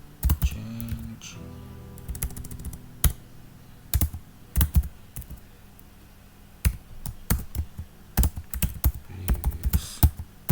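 Computer keyboard typing in short irregular bursts of clicky keystrokes, close and fairly quiet, with pauses between words and no talking.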